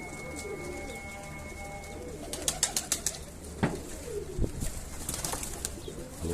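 Birds in a loft, several of them unwell and frightened, coo softly and flap their wings in short bursts, with scattered clattering movement close by and no talking.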